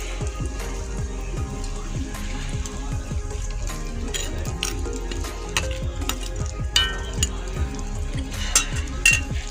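Pieces of katla fish go into a simmering curry (kalia) in a pan, with a steady close sizzle and bubbling and scattered crackles and spatters; no voices.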